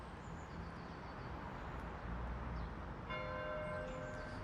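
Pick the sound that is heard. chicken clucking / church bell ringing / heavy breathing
church bell ringing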